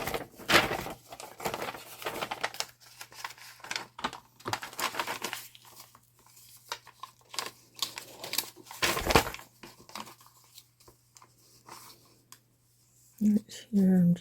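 Paper being cut for a glue book, close scissor snips and scraping paper rustles in irregular bursts, with a voice speaking over parts of it and a short thud near the end.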